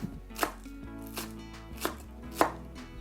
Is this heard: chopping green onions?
yes